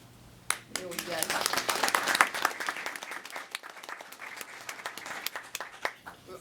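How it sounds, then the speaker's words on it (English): Audience applause for nominated volunteers at a county board of commissioners meeting, clapping starting abruptly, swelling to a loud peak, then thinning toward the end. "so we can give you a round of applause"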